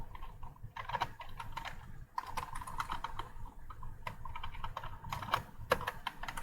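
A computer keyboard clatters as code is typed in PyCharm, with quick irregular bursts of close, fairly quiet key taps and brief gaps between runs.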